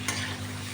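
Paneer frying in oil gives a brief soft sizzle, with a light scrape of stirring at the start over a low steady hum.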